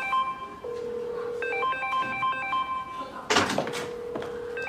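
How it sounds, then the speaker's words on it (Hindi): A phone rings with a steady electronic tone that keeps repeating, and a thud and rustle break in partway through. "ये किसका फोन बज रहा है?"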